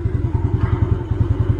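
Motorcycle engine idles nearby in a fast, even, throbbing chug, loud and steady, with faint clatter and no talk.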